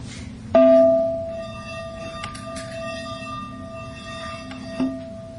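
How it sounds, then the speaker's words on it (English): A bell struck once, ringing out loudly with a sustained, slowly fading tone, then a second softer strike near the end over a faint background hum. "I know we didn't ring the bell at the beginning, but I will make sure we do now"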